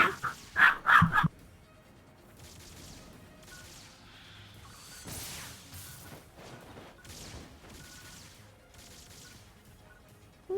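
Dog barking in the video game Phantasy Star Online 2 New Genesis: a burst of several loud, close barks at the start, then quieter game sounds continuing underneath.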